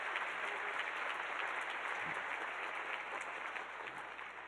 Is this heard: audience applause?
yes